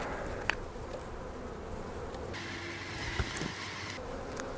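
Bees buzz in a crowded, tightly packed open beehive with propolis-stuck frames. A dense, continuous hum fills the scene, with closer individual bees droning past now and then. No one speaks.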